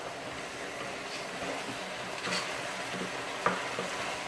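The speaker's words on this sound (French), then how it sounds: "On remue." Tripes stirred in a tomato sauce with carrots, a soft bubbling simmer with a few scraping stir strokes, steady and moderately close.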